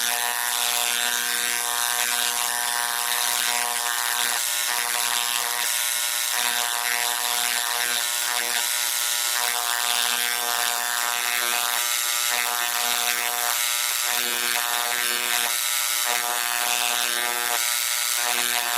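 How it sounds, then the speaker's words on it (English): An electric engraver cuts a last name into a piece by hand, giving a steady, loud, rattling buzz that pulses slightly as the tip moves and runs without pause for the whole stretch. "I'm just going to engrave his last name on them"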